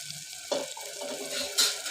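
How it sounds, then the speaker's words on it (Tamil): Water poured into a pan of brinjal gravy over the heat, a soft gurgling splash with a low bubbling sizzle underneath and a couple of brighter spurts near the end, close-up. "அதனால் நான் கொஞ்சம் தண்ணியை ஊற்றிக்கிறேன்."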